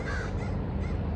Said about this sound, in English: A flock of crows is a murder.